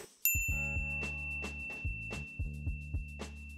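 A bright notification bell ding rings once near the start, followed by a steady background melody with repeated soft tonal hits.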